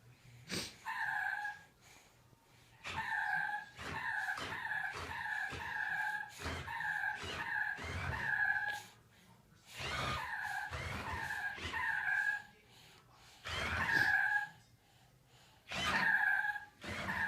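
A toy remote control car driving, with a run of high whirring, squealing motor bursts that start and stop repeatedly, separated by short pauses, close by and fairly loud.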